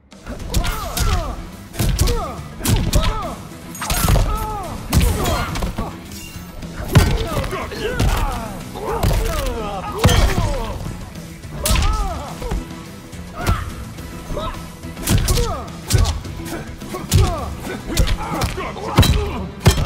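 Punches, kicks and thuds land in rapid succession during a Mortal Kombat 11 fight between Bruce Lee and Jax Briggs, loud and dense, mixed with grunting character voices and whooshing strikes throughout.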